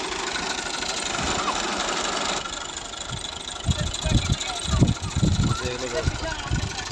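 A 2005 FiAT 480 tractor engine idles with a steady mid-pitched chug in the background, while someone talks over it in the second half.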